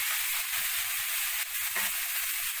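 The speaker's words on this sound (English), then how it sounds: "there goes the soy sauce and dark vinegar mix" Soy sauce and dark vinegar mix sizzling in a hot pan during Chinese cooking, a steady loud hiss with faint low bubbling underneath.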